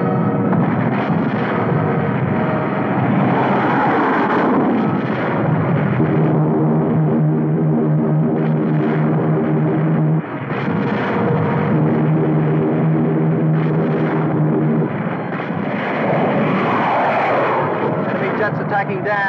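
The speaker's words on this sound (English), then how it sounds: "Enemy jets approaching Boulder Dam." Enemy jet planes roar in for an attack on Boulder Dam in a 1952 vintage film soundtrack, a loud continuous engine drone with rumbling blasts, mixed with orchestral music and shouted voices throughout.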